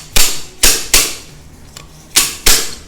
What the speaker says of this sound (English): So again, you hear that positive sound that it's been driven home.